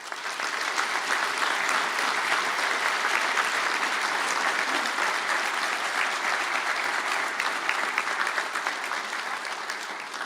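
Loud, steady audience applause fills a college conferring ceremony hall as architectural technology graduates stand, a continuous wash of many hands clapping without pause.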